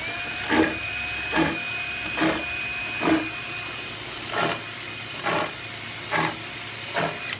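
A power drill bores countersink holes into deck boards: short whirring bursts repeat about every second, eight in a row, over a constant background hum.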